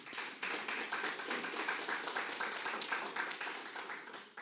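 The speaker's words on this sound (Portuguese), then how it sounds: "Você pode aplaudir o Senhor por essa palavra?" A church congregation applauds in a steady, dense patter of hand claps that runs evenly throughout at moderate volume, with no voices over it.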